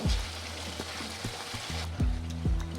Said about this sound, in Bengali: এভাবে করে কিছুক্ষণ কষিয়ে নেব